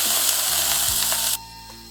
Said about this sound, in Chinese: 再加上烫烫的开水。